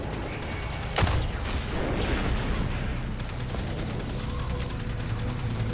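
Gunfire rings out against Vex constructs in Destiny 2, with a sharp shot near the start and then a steady stream of rapid, repeated shots over continuous game noise.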